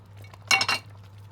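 A spoon clinks and scrapes against a pot while red lentils and bulgur are stirred together, two short close bursts of metallic clatter over a low steady hum.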